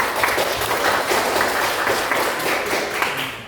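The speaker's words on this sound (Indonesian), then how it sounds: "Tepuk tangan." A group claps continuously for a few seconds, a dense, even patter of hands at moderate volume.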